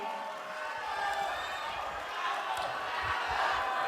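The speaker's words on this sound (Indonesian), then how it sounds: "Kita berikan tepuk tangan yang meriah untuk ketiga pasangan calon kita pada malam hari ini." Audience at a final public mayoral and deputy mayoral election debate applauds the three candidate pairs, a steady wash of clapping that stays fairly loud for about four seconds with no talk over it.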